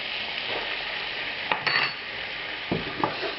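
Butter foaming in a pan for a roux, a soft steady sizzle with a few brief clinks of a utensil against the pan partway through, close and fairly quiet, no talk.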